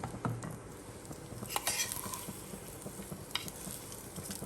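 Hot tempering poured and stirred into grated fresh corn gives a faint, steady sizzle with soft scraping and stirring clatter of utensil against pan.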